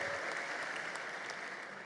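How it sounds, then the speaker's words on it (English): Dense, steady applause from a large audience filling a congress hall at a political party congress, continuous and even for the whole stretch with no voices standing out. "Let's give him a round of applause for what he has done in the efforts against climate change."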